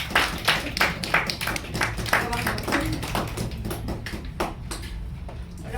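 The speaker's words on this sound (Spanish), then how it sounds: "vamos a darle un aplauso." Scattered, uneven hand clapping from a small audience at an anthology presentation after erotic poetry is introduced, individual claps distinct and close, thinning out toward the end.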